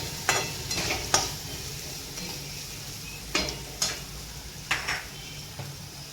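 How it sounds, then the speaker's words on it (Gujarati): Vegetables including capsicum sautéed and stirred for upma in a pan, soft steady sizzling with a spoon scraping and clinking against the pan in irregular strokes, no voices. "તો આ બધી વસ્તુને સારી રીતે આપણે સાતળી લઈશું અને થોડી વાર પાકવા દઈશું।"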